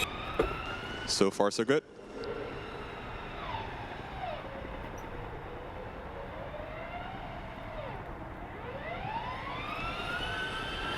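A Formula Student race car idles and revs while lining up at the Skidpad of FSG 2016. The engine tone rises and falls in long smooth sweeps, with a brief burst of voices near the start.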